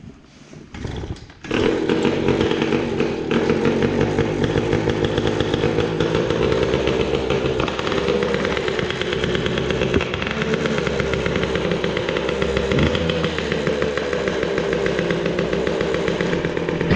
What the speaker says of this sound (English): Let's see if it wants any choke.